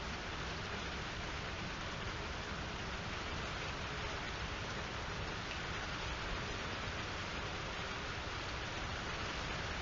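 Steady rain pours down over a backyard on a wet day, a dense, constant hiss of drops with no voices, close and even throughout.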